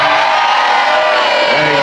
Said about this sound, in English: Let me hear you both cheer for your houses.